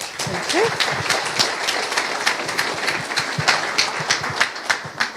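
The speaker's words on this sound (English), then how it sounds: "I would like to give a big round of applause" A crowd applauds steadily, many hands clapping in a dense, sustained patter with some louder individual claps standing out.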